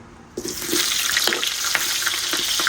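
Onions hitting a hot pan for a fish stir-fry, bursting into a loud, steady sizzle with small crackles and pops, close and continuous, no talk.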